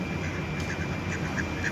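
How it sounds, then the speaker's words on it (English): Ducks quack in downtown Dayton, Ohio, a few soft, fairly distant calls repeating irregularly over steady outdoor background noise. "You guys are the most confused ducks I've ever seen."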